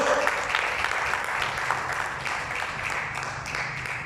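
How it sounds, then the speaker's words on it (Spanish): A church congregation applauds the Lord during a Spanish-language sermon, steady clapping from many hands at moderate volume with faint voices mixed in. "¿Cuánto le aplaudan al Señor?"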